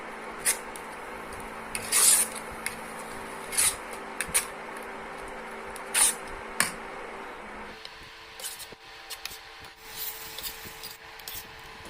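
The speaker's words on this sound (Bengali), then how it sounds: "মশলাটাকে ভালো করে কষিয়ে নিতে হবে।" A spatula stirs and scrapes turmeric, cumin, coriander and chilli powders frying in a pan for chicken curry, faint intermittent rubbing strokes every second or two against a quiet background.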